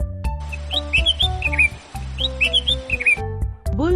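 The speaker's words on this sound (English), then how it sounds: "Bulbul." A bulbul sings a series of bright, warbling chirps and short whistled phrases, close and clear over a steady low background hum.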